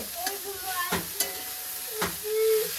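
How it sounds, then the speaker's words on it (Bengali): Mixed vegetables lightly fried in a pan, a steady close sizzle punctuated by several distinct stirring scrapes of a spatula against the pan. "হালকা ফ্রাই করছি আমি"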